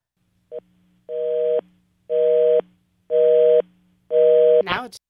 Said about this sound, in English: Our third attempt to return the call was made from the Q Country studio and left us with just a busy signal